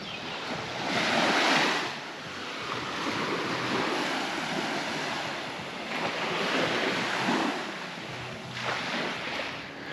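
Ocean waves roll onto a long resort beach, broad surging washes rising and falling every few seconds under steady wind noise, with no voices.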